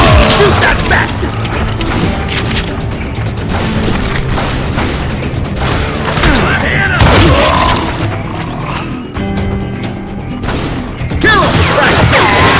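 Gunfire and booming blasts fill the Western video game Call of Juarez Gunslinger, loud and continuous with dense shots and crashes layered over music, while voices shout over the action.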